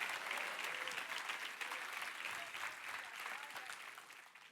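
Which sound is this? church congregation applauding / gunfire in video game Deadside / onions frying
church congregation applauding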